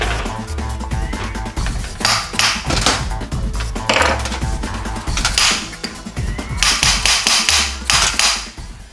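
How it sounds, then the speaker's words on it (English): A dead blow hammer taps repeatedly on a Volvo Penta marine fuel pump being disassembled, giving sharp, close knocks in irregular bursts with no talking. "This is just a dead blow hammer that I'm using."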